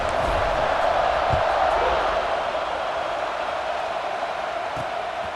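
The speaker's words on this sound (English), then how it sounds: "this crowd is buzzing after that last score" Stadium crowd murmuring and buzzing in a college football video game after a touchdown, a dense, steady wash of background noise with a sports commentator talking over it.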